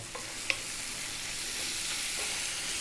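Half a kilo of freshly ground beef sizzles steadily in a pan over high heat as it is stirred for keema matar, with a brief sharp scrape early on and a constant hiss throughout.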